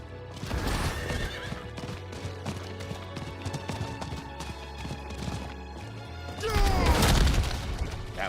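A fiery Flame Horse mount in Diablo 4 gallops with steady clip-clop hoofbeats and lets out a loud neigh near the end, its whinny rising over the game's layered ambient music.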